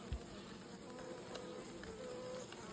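Faint, steady buzzing of honeybees droning continuously in the background at a beehive, with no one speaking.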